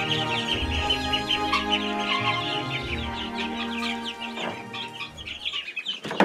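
Young chicks kept alongside Rouen ducklings cheep and cluck close by in a busy, overlapping chorus of short chirps, with rustling movement underneath.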